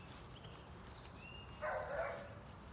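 A dog gives a brief, faint bark from some distance in a quiet outdoor setting, a short burst standing out from low background noise.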